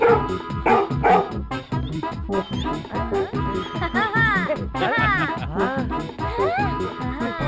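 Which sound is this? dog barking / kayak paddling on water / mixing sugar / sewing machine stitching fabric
dog barking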